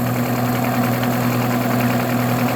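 Oldsmobile 4-4-2 W-30 V8 engine idling at about 620 RPM: a steady, close, even low rumble with constant mechanical hum and no talking.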